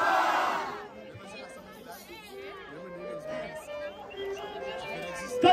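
A crowd at a student rap battle roars and shouts, loud at first and then settling into a steady noisy hubbub with scattered cheers and yells.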